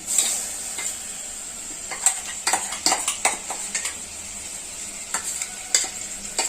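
A spoon stirs a paste of cardamom, cloves, cinnamon, shahjeera, dry coconut and pepper into paya in a pot, giving repeated scraping clinks over a steady sizzle, close and clear with no talking.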